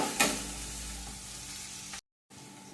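Onions sizzling in a pan with oil, a soft steady frying hiss and a brief stir near the start, cut by a short dropout before the sizzle resumes.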